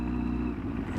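A Kawasaki ZX6R motorcycle engine runs with a steady, moderately loud mechanical drone and a little clatter, close by and without speech.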